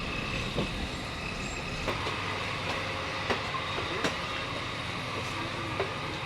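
A commuter express train at Rohonpur rail station in Bangladesh rumbles steadily up close, with a rough continuous roar and faint repeated clacks of wheels over rail joints throughout.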